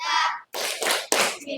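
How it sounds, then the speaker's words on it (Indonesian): A class of children doing the panca cinta clap chant, a brief burst of rhythmic hand claps mixed with children's chanting voices, close and loud. "kita tepuk panca cinta dulu"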